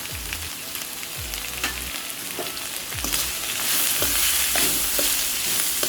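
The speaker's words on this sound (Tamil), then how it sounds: "பீன்ஸ் எண்ணெயிலே கொஞ்சம் வதங்கிட்டோம்." Green beans sautéing in oil for a Tamil beans poriyal: a steady, dense sizzle with repeated scraping stirs across the pan, growing slightly louder toward the end.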